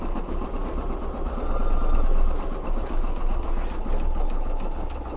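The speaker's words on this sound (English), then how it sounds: "Let me show you this bag while that's almost done stitching." Sewing machine stitching a fully lined minky zipper bag, a steady rapid mechanical whir with fine rhythmic stitch pulses that continues throughout at moderate, even loudness.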